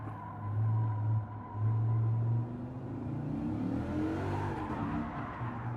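A race car engine in Gran Turismo 7 revs and drones, rising and falling in pitch through gear changes, with faint tire noise, moderately quiet and without speech.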